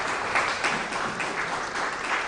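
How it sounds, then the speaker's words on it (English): Spectators at a 10m air rifle standing world shooting championship give a steady, moderately loud round of applause that carries through to the end. "we have the next decision with your big applause"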